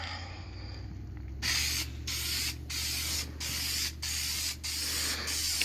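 Aerosol tint spray applied to car taillights in short repeated hissing bursts, about six sprays separated by brief pauses, close and fairly loud.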